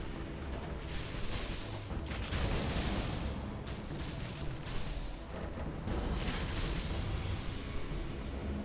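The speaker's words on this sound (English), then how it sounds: "Okay, carpet bomb now coming for ExCaL." Dense, continuous rumbling barrage of carpet bomb explosions in the real-time strategy game Command & Conquer Generals, heavy and sustained with overlapping booms and no clear gaps.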